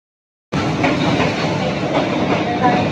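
A train passes very close along Hanoi Train Street. After a moment of silence a loud rumble with rattling carriages starts abruptly and holds steady, and faint voices may sit underneath.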